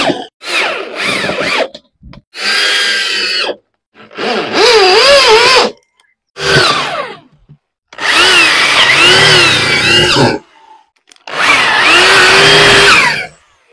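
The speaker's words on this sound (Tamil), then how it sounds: "இப்போ இது எல்லாத்தையும் டைரக்ட் ஸ்க்ரூ யூஸ் பண்ணி டைட் பண்ணிக்குவோம்." Power drill driving screws into plywood on a scooter-engine race car build: six loud, close bursts of whirring motor with rising and falling pitch, separated by short silent pauses.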